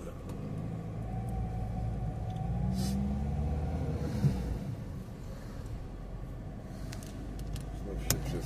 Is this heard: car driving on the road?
yes